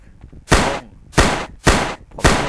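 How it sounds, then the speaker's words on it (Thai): Four loud, sharp gunshots in the zombie game ZumbiBlocks fire in an uneven rhythm, each with a short decaying tail, close and without any talk. "เราก็จะมายิงปืนเพื่อเรียกซอมบี้ให้มารวมกันนะจุด ๆ นี้"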